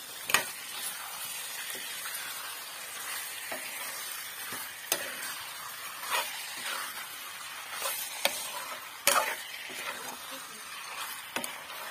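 Broiler chicken frying in a pan, stirred with a utensil: a steady close sizzle with intermittent scraping and clicking taps from the stirring.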